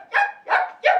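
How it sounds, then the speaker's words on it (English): A small mongrel dog yelps three times in quick succession, close and loud, each cry high and sharp with a short pause between. "that little mongrel started yelping"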